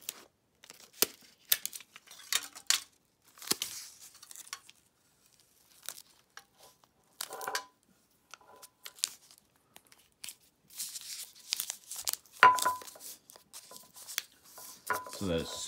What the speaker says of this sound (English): I'm just going to apply two pieces of tape here.